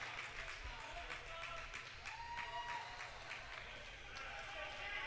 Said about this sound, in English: Nice round of applause, both sides of the floor.